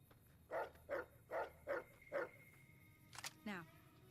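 A dog in the video game Fallout: New Vegas barks five times in an even rhythm, moderately close, followed by a brief whine or yelp and a bit of background game noise.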